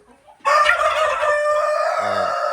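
Chickens on a small farm where the hens have stopped laying, with a rooster crowing loudly and close over steady clucking, filling the clip after a quiet start.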